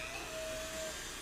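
Dremel rotary tool whirring steadily while filing a cat's nails, a continuous close motor whine with a sustained high tone, no talking.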